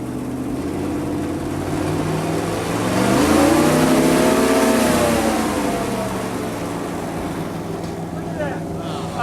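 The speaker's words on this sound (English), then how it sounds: "You're going to rev it up now" A car engine revs up, its pitch climbing and holding at a loud whine before settling back, with people talking faintly over it.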